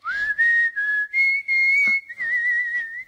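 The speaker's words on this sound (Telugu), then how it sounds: "ఏ విజిల్ అంత బాగుందా?" A person whistles a sustained, wavering tune in several short phrases, close and clear, with faint rustling behind it and no talking.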